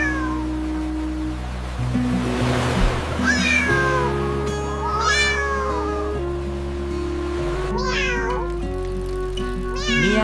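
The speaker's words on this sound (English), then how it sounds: "Meow, meow, meow." Cartoon cat and kittens meow repeatedly in high, sliding cries over steady background music, several calls overlapping from about four seconds onward, with no talking.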